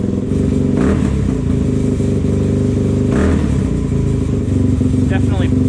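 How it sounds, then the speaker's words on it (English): A Suzuki DRZ400S dirt bike engine runs close and loud with a lumpy, uneven idle, broken by a couple of sharp popping backfire bursts; a voice talks over it. "Definitely better. Still some backfiring."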